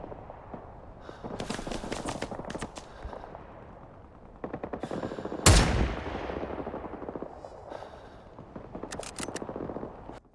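Gunfire in the Vietnam War video game Rising Storm 2: Vietnam, with scattered distant rifle and automatic bursts throughout and one loud, close sniper rifle shot ringing out midway.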